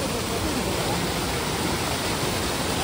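A swollen mountain stream rushes in a steady, loud roar of water that stays constant throughout, with no breaks or other clear sounds.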